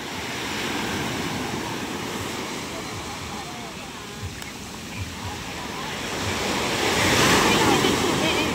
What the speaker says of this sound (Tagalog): Malaki ang gulong ng alon.